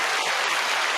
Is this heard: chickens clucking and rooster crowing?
no